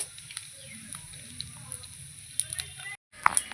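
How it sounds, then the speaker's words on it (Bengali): Cumin seeds crackle and sizzle in hot oil for a crab curry, a steady close frying hiss broken by brief sharp pops and one short cut to silence near the end. "তেল দিয়ে দিয়েছি জিরে ফোড়ন দেব এই যে জিরে ফোড়ন দিয়ে দিয়েছি"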